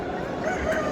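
An Australorp rooster at a national poultry competition crows briefly, a loud, nearby strained call lasting about a second, with no talking.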